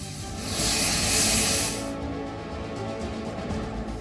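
An airplane engine roars with a bright rushing whine that peaks early and then fades into a steady lower drone.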